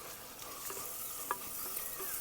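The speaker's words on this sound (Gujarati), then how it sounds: "સારી રીતે હલાવી નાખવાનું, મિક્સ કરી દેવાનું બધું" Spices (turmeric, coriander-cumin powder, salt, chili) stirred in a pan for Maggi noodles, with soft scraping strokes over a light sizzle, close and fairly quiet, no talking.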